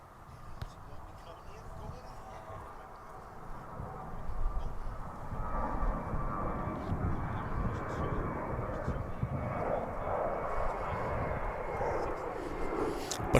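Airbus A321 airliner arriving from Los Angeles at DFW airport, a broad jet roar building steadily and holding loud as it draws near, with a person talking underneath.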